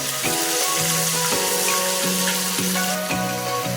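Cumin seeds and thecha hit hot oil in a pan, giving a steady loud sizzle and crackle that runs throughout, with a faint rhythmic tapping in the background.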